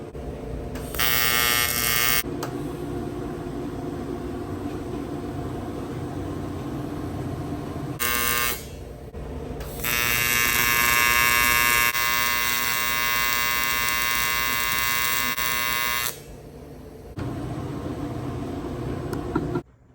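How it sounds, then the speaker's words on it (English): A TIG welder buzzes in bursts of several seconds as flanges are welded onto a vintage Harley Flathead 45 intake manifold on a welding table, loud and close, with pauses between the arcs. "So I'm gonna weld this intake manifold up, weld it up on the welding table"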